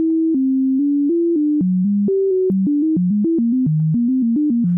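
An Ableton Operator synthesizer with sample-and-hold random modulation jumps between random stepped pitches, a loud, clean synth tone hopping note to note in an uneven, eerie melody.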